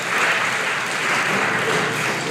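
Steady, dense clapping from a graduation ceremony audience carries on evenly from start to finish, without a break.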